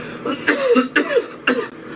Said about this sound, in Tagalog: Sobra 3 ka semana nga pag-ubo.